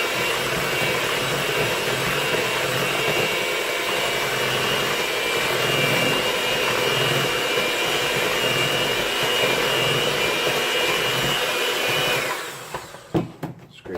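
An electric mixer blends pound cake batter with a steady, close whir that holds for about twelve seconds, then cuts off, leaving a few faint clicks and bumps.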